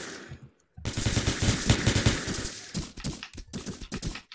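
Pistol fire in the video game Entry Point, a rapid string of loud shots in dense bursts after a brief quiet start, with short gaps between volleys.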